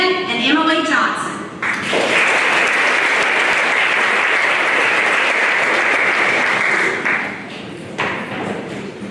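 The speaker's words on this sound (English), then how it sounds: "Jackson Jones, I believe you got the loudest applause" A crowd applauds loudly at a high school honors day ceremony, the clapping steady and full for several seconds before thinning out, with voices and thumps around it.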